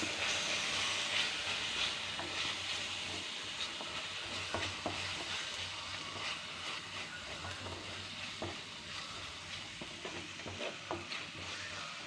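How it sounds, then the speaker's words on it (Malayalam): Fish curry in a pan being stirred after turmeric powder is added, giving steady scraping and stirring strokes over a continuous sizzling hiss, close and fairly loud throughout with no talking. "ഇനിയും കുറച്ച് മഞ്ഞൾപ്പൊടി നമുക്കിതൊന്ന് മിക്സ് ചെയ്യാം"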